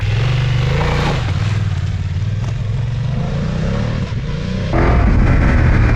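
A 2024 BMW F900GS motorcycle ridden in enduro mode gives a loud, steady engine drone close up with wind rush, and the engine note jumps higher near the end as the rider accelerates.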